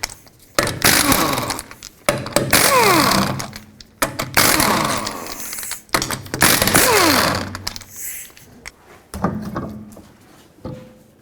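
A power tool spins off wheel lug nuts with a 19mm socket on a 2005-2010 Pontiac G6, loud close bursts of about a second or two each, separated by short pauses.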